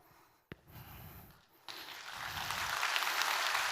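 A church congregation at a Sunday worship service breaks into applause for a deacon called to the front: a few scattered sounds first, then clapping swells in and keeps building to a steady, full round.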